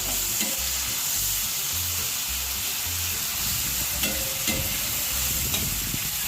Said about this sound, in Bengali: মশলাটা খুব ভালো করে ফ্রাই হবে